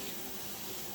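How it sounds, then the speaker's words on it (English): Tap water runs steadily into a pitcher in a kitchen, a continuous close hiss and splash with no pauses. "I'm just filling up my pitcher with water so I can add water to my pots."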